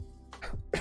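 A person coughs in two short bursts, a harsh throaty hack and then a louder, sharper one close to the mic.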